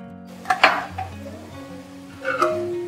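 Prawn biryani masala sautéing in a kadhai: a few clanks of a spoon against the pan stand out over a low, steady cooking sizzle, close by, with no talking.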